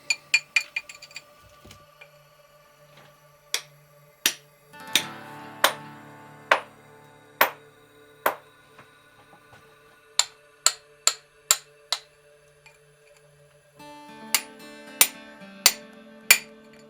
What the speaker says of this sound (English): miners still use simple tools like a chisel and hammer to extract ore